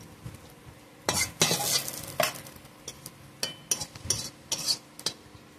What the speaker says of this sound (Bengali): আমার পেঁয়াজটা প্রায় লাল লাল করে ভাজা হয়ে গেছে